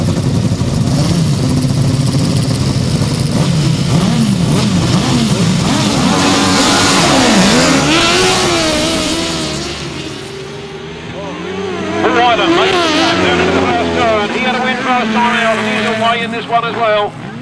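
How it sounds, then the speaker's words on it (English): Ducati motorcycle engine winding up hard during a grasstrack race, loud and close with other bikes roaring alongside, pitch climbing and sweeping before dipping briefly and surging again; a commentator talks over it. "The Ducati is winding up and trying to come up from fourth into third."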